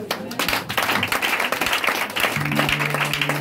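A church congregation claps and cheers for God, a dense steady wave of applause filling the room, with voices mixed in throughout.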